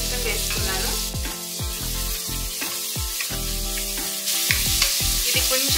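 Finely chopped onions fry in a pan for chicken shorba over medium flame, a continuous loud sizzle broken by repeated scraping stirs of a spoon.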